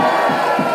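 A concert crowd on a tour cheers and shouts loudly and steadily, a dense wall of voices with whoops rising through it.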